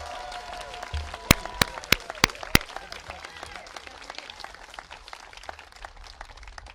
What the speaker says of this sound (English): Let's have a big round of applause for the Governor and the First Lady.